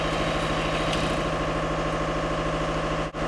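A moped engine that is hard to start runs steadily and loudly with a low, even idling drone and vibration, ending with a brief dip near the close. It sounds close by, and no one speaks over it.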